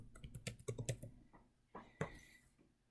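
Keys on a computer keyboard are pressed while entering a variable label in SPSS: a fast run of soft, close clicks followed by a couple of isolated taps in a quiet room.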